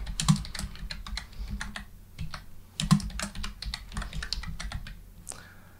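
A project name is typed on a computer keyboard in quick bursts of close, crisp key clicks, with two short pauses between the runs of keystrokes and no talking.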